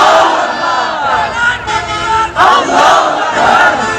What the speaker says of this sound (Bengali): আরেকবার স্লোগান দাও, লিল্লাহি তাকবীর।